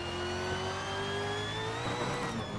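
A 2018 V8 Supercar engine in Assetto Corsa revs hard and steadily climbs in pitch as it accelerates, a loud continuous close-up drone with rising harmonics and no talk.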